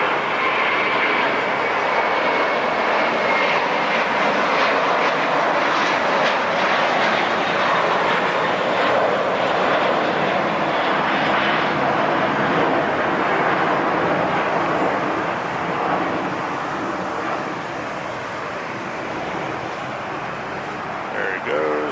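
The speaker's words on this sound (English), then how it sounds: "Philippine Airlines Flight 112 coming in from Manila, MNL. 777-3" A Philippine Airlines Boeing 777-300 lands at LAX, its engine roar and rushing air held loud and steady throughout before easing slightly near the end.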